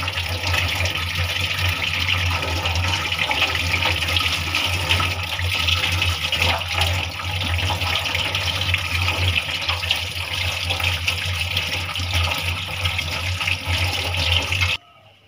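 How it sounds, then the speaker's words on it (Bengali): Small potatoes are washed under running tap water, which gushes in a continuous, close stream before cutting off abruptly at the end. "আলু ধুয়ে নিচ্ছে এখানে"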